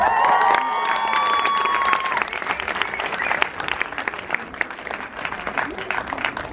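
An audience at a cinema premiere in Hamburg applauds and cheers as guests arrive, a loud dense wall of clapping with some shouts, easing slightly but continuing throughout.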